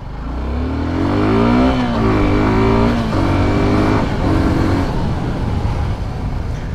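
A Suzuki Gixxer 250 motorcycle accelerates hard in a drag run, its engine revving loud and close and rising in pitch through several gear changes, then holding a strong drone.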